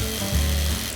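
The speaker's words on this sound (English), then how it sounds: "I'm gonna try to use the electric fillet knife." An electric fillet knife cuts into a frozen spotted trout, its motor giving a brief, close, steady buzzing hum that dips slightly as the blade bites.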